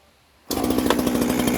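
A small Ryobi chainsaw roars to life after near silence and holds a loud, buzzing rev with a slightly pulsing, rough tone for over a second.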